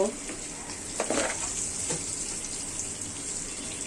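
Boiled papaya frying in a pan with oil, a steady hiss of sizzling with a few sharper stirring scrapes near the start, close and fairly loud, no talking.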